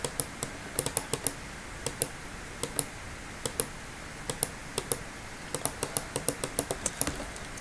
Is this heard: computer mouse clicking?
yes